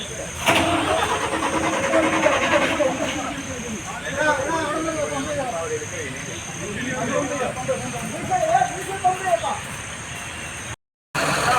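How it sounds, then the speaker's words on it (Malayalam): A broken-down container lorry on a blocked road has its engine started, a loud, continuous rough engine rumble mixed with roadside traffic noise, with people talking over it throughout. "എന്തായാലും വണ്ടി സ്റ്റാർട്ടായിട്ടുണ്ട് കേട്ടോ"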